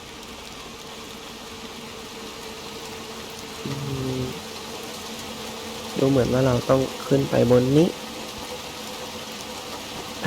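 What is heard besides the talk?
rain falling in the video game Little Nightmares 2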